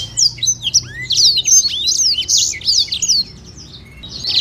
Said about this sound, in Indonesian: Ini udah gacor juga burung ya.